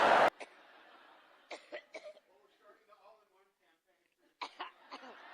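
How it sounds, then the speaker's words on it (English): Close, loud cough bursts break out in a fit, one sharp hack at the start and then clusters of repeated coughs and throat-clearing spaced over several seconds, with quieter breathy sounds between them. "The coughing fits, which is yet another side effect of strokes."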